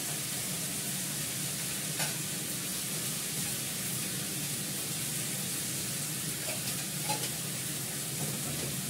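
Spiced mutton with cumin, turmeric and a little sugar stir-fries in a pan, giving a quiet continuous hissing sizzle with faint scrapes of the spoon at intervals.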